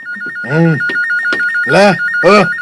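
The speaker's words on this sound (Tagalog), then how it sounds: "Tabagaw na ng telepono ay." A telephone rings with a steady warbling electronic trill throughout, while several voices call out over it.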